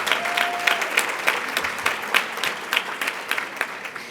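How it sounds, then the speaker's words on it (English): A crowd applauds steadily, many hands clapping in a dense, continuous patter at moderate volume, with no voices over it. "Please give them a round of applause."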